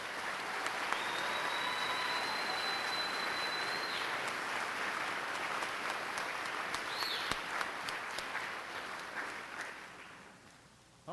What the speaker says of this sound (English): I think they deserve a round of applause for all their efforts